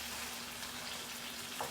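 Paneer cubes frying in shallow fat in a pan give a steady, even sizzle with a faint low hum underneath and one small spitting pop near the end, with no talking.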